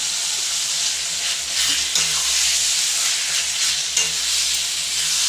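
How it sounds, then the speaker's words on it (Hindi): Tomatoes frying in masala for a home-made chicken kosha, a steady close sizzle with stirring scrapes running throughout, one brief louder spatter midway and no speech. "टमाटर को पूरा फ्राई होने दीजिए।"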